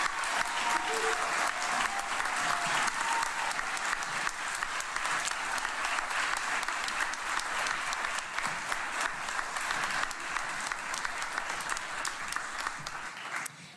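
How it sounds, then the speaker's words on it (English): An audience applauds prevention award winners at a sexual assault prevention and response awards ceremony, with even, sustained clapping filling the room at a steady level from start to finish. "please give a round of applause to our Promoting Excellence in Prevention Award winners"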